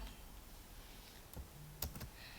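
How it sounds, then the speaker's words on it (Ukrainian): A computer keyboard is pressed for a Ctrl-V shortcut, giving two or three faint, quick key clicks over low room hum, with no voice present. "Для того, щоб вставити фото, нам потрібно використати комбінацію клавіш Ctrl-V."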